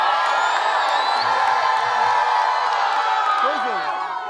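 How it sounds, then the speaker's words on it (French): A crowd at a church children's outing and hike shouts and whoops with joy, a loud, continuous wall of cheering voices that holds steady throughout. "Poussez les cris de joie"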